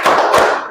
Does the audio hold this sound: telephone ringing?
no